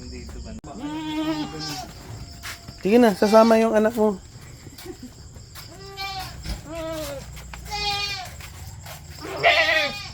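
Anglo-Nubian goats bleat several times, loud and nearby, with a person speaking briefly among the calls and a faint insect hum in the background.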